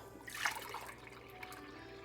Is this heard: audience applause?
no